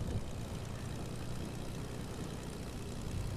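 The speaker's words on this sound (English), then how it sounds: "it turns out you can't just roll up at a fuel station in your plane" A plane's engine in the video game Fortnite, a steady low droning hum that holds at an even, moderate level throughout with no breaks.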